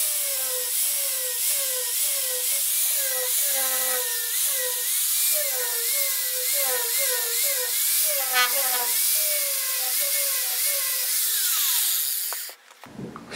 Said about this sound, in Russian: Осталось зачистить сварные швы, чтобы все было красиво